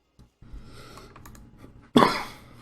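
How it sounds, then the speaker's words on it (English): A single sharp, loud cough bursts out near the end, close to the microphone, after a stretch of quiet low rumble and soft background noise. "Coughing."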